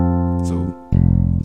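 Sustained worship-style keyboard chords sound close and loud. One chord fades out, then a second fuller chord is struck and held.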